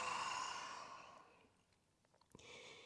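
A long breath out through the nose during a yoga flow, loud and airy at first, then fading over about a second and a half before a quieter breath follows.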